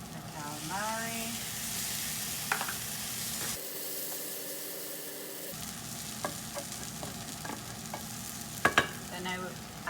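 Chorizo, sausage and calamari sizzle steadily in a paella pan while being stirred. The frying hiss stays loud and close, with scraping and clinking of the utensil throughout.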